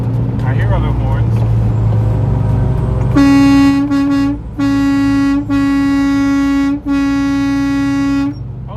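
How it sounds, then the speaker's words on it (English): Trucks in a road convoy sound their horns, beginning with rumbling traffic and voices, then several long, loud horn blasts with short gaps between them. "I hear other horns."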